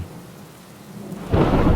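Heavy rain falls steadily beneath a low rolling rumble, then a loud burst of thunder breaks in near the end and sustains over the downpour.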